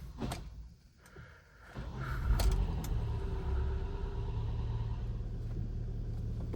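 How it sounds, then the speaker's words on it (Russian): Hyundai ix35 with a G4KD engine, rebuilt with a sleeved block, cranks with a few clicks and thumps, then fires and settles into a steady, fairly quiet idle heard up close. "Машинка заработала."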